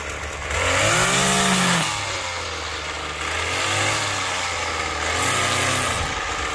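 A gas string trimmer cuts grass around a yard, its small two-stroke engine whining close and loud, rising and falling as the throttle is eased and opened again, with no voices over it.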